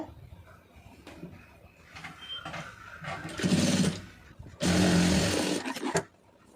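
Sewing machine stitching two fabric pieces together at a tailoring bench: two bursts of fast rhythmic mechanical whirring, each about a second long, preceded by quieter handling noises and light clicks.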